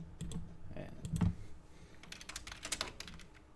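Someone types on a computer keyboard nearby, a quick, irregular string of clicks and clacks that comes in short bursts with a couple of heavier thumps.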